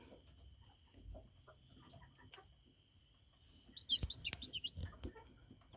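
Five-day-old Chinese silkie chicks give high, thin peeping chirps in short clustered bursts, close by and fairly faint, over low rustling and a quiet background hum.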